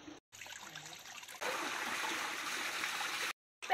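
Mountain spring water pouring from a spout, a steady splashing trickle that swells into a fuller, louder gush partway through, with a brief cut to silence near the end; no one speaks.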